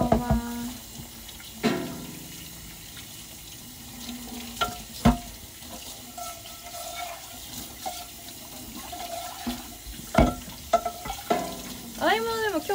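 Dishes being washed at a kitchen sink, with scattered clinks of dishware and splashes over a low running-water bed, moderately close, and light background sound.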